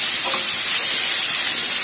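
Loud, steady sizzling hiss of onion and capsicum frying in a hot pan for gobi Manchurian, continuous and close, with no talking.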